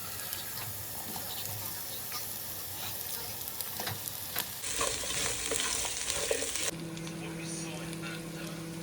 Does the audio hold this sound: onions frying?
yes